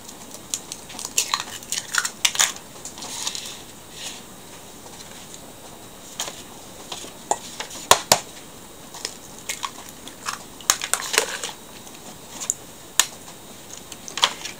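Eggs cracked and added to a quick vegetable pie batter in a kitchen: crisp, light taps and clicks of shell against a bowl, scattered irregularly and fairly close, with faint utensil clinks between.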